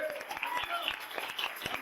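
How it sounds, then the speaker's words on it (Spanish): A church congregation claps in a steady, moderately loud patter of many hands, with distinct individual claps standing out and voices mixed faintly beneath the applause. "Fuerte el aplauso al Señor"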